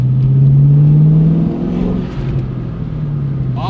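A Ford Mustang engine revs and accelerates up close with plenty of torque, holding a loud, steady drone through the first half before easing back to a lower, rougher rumble while cruising through a neighborhood.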